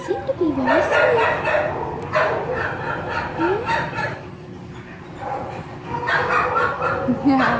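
A white and tan pit bull mix yips and whimpers in high, wavering bursts, close by, with soft voices around it.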